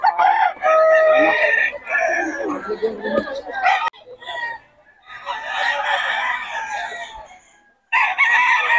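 Straight sweater gamefowl roosters crowing close by in repeated loud calls with some clucking, while people talk over and between the crows.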